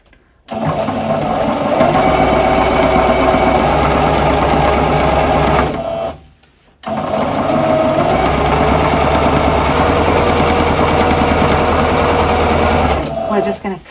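A sewing machine stitches a bust dart at a short stitch length, running in two long steady loud whirring passes separated by a brief stop, recorded up close.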